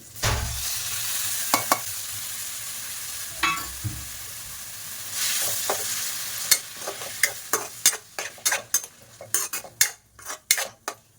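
Tomatoes go into a pan for mutton bone soup and get stirred, with a soft sizzle of frying underneath, a few scraping strokes early on and a rising run of sharp spoon-against-pan clinks toward the end.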